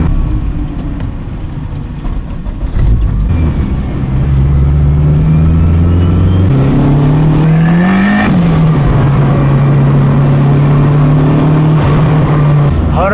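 A turbocharged Honda Civic engine on 7 psi of boost idles steadily, then revs up and settles back down, with a high turbo whistle rising and falling above the low rumble.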